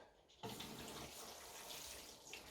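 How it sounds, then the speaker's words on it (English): A steady, gentle spray of water falls on newly pricked-out seedlings in trays. It starts abruptly and continues as a soft, even hiss, quiet and without talk. "Now we're just going to water them in quickly and put them back out in the greenhouse."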